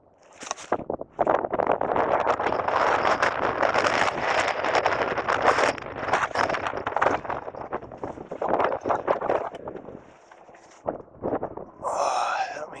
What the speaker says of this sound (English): It's been incredibly windy today,